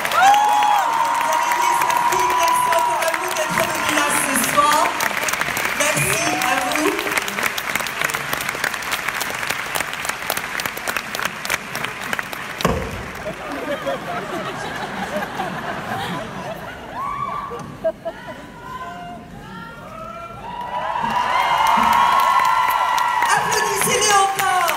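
Sustained applause and cheering from a large audience fill the hall at the French premiere of Disney's Dumbo (2019), with whoops and some laughter rising and falling, and voices carrying over the crowd near the start and end.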